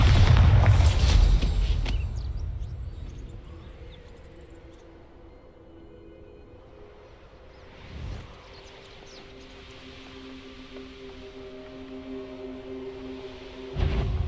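A Bombarda spell explosion in the game Hogwarts Legacy: a loud booming blast at the start that rolls off into a long fading rumble, followed later by a softer thud and a sharp final crack.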